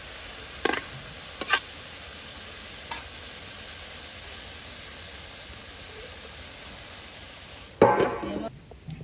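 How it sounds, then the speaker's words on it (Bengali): Bottle gourd leaves fry in oil over a rural cooking fire. A soft, steady sizzling hiss runs throughout, broken by a few sharp clinks of a utensil and a louder scraping clatter near the end. "এই যে আপনার শাক পাতাগুলো কিন্তু তেলে ভেজে নেওয়া হচ্ছে"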